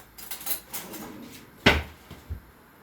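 A metal spoon stirs yogurt in a dish, making a string of light clinks and scrapes with one louder ring of metal on crockery near the end.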